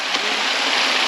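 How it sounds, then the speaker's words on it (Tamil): A hill stream in the Jawadhu Hills flows toward the Shenbagathoppu dam, a steady close rushing of water with no breaks and no voices. "அந்த அணைக்கு தண்ணி போகுது"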